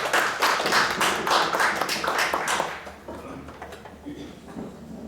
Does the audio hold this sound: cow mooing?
no